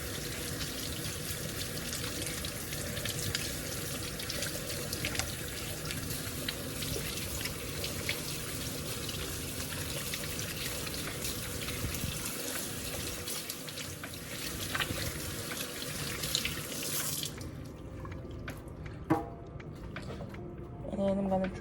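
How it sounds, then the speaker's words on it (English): Warm tap water runs steadily into a sink as hands are rinsed after soaping, a dense continuous splashing that cuts off near the end, leaving a few drips and small clatters. "Then I'm gonna rinse it through the warm water."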